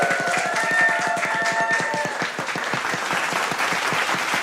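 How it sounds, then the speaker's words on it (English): An audience claps for the winning group at a university summer course closing ceremony, a crisp, fairly even round of applause with individual claps audible throughout. "Give applause, Group 1."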